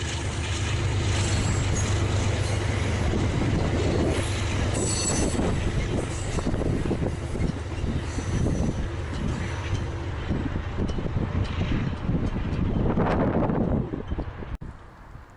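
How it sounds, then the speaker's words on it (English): Amtrak locomotive 704, a heritage unit in Phase 3 livery, hauls six Amfleet passenger cars past, a loud continuous roar of wheels and rails with squealing and wind buffeting that fades near the end. "Number 704 is pulling a slightly longer passenger train made up of 6 Amfleets"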